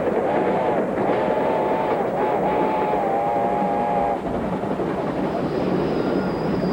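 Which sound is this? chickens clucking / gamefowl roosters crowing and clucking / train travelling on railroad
train travelling on railroad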